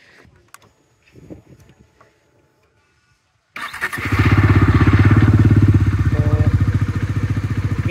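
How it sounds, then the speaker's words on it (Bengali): A modified Bajaj Dominar 400 motorcycle sits through a few quiet clicks and handling sounds, then the engine fires and settles into a loud, close, throbbing idle with a steady pulsing beat. "সাউন্ডখানা খাসা ভাই, এই হচ্ছে ডমিনার, ডবল যা আওয়াজ লিটারালি"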